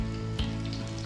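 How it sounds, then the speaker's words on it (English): Chopped onions fry in oil in a cooking pot for a meat stew, a steady close sizzle with a brief louder burst partway through. "So I'm gonna cook this onion until it's golden brown."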